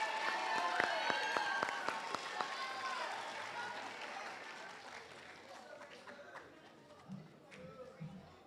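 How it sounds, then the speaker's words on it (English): Audience at a 7th grade school awards ceremony applauding, a crowd of clapping hands loud at first and gradually fading over several seconds, with a few scattered claps at the end. "if we could give these guys a round of applause"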